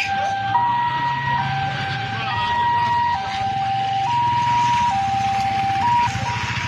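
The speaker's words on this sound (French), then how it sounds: "L'ambulance vient de passer le premier point." An ambulance siren wails loudly on a road in Tiassalé, Côte d'Ivoire, its two-tone pitch stepping up and down steadily over engine and traffic rumble, close by and continuous.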